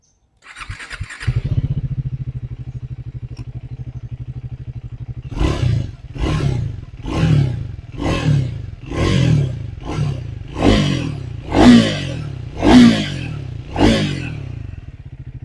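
A Triumph Speed 400 motorcycle fires up with a short starter burst, settles into a steady idle, then takes a run of about ten sharp throttle blips, each rising and falling, loud and close.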